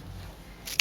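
Scissors make a single quick, crisp snip as they trim the ends of a paper card embellishment, close and fairly faint after a brief quiet moment.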